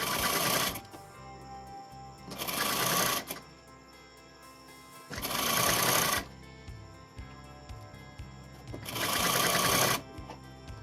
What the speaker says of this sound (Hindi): इसको फोल्ड करके ऐसे स्टिच कर देंगे स्ट्रेट